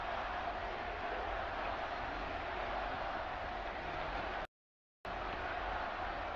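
Broad murmur of a large crowd gathered in St. Peter's Square for the first blessing of a newly named pope, steady and distant, cut by a brief half-second dropout near the end.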